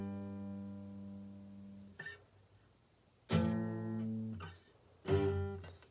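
Acoustic guitar strumming the chords of the Bunk'd Kikiwaka camp theme song, three ringing strums a couple of seconds apart, each left to sustain and fade, played alone at moderate volume.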